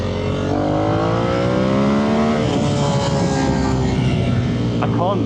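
A Ducati Monster 1200 S motorcycle engine accelerates hard in low gear, its tone climbing and then dipping briefly as the revs stumble before picking up again, loud and close with steady wind noise.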